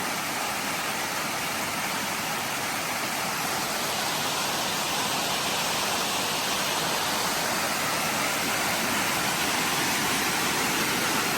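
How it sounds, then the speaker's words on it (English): A waterfall fed by smaller streams pours down with a steady, loud, unbroken roar of rushing water, heard alone with no voices. "Listen to that water."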